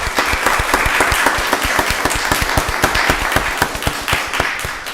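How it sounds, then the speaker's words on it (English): Audience at a county board of commissioners meeting claps in a brisk, steady round of applause, individual sharp claps distinct and close, lasting several seconds before tapering off. "Let's give Deidre a round of applause."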